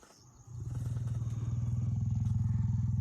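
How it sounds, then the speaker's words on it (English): A large lion growls in the wild, starting after a brief pause and building into a deep, sustained, rumbling growl with a rapid pulsing texture, close and steady to the end. "The large lion was growling and keeping a close eye on the 2 strangers"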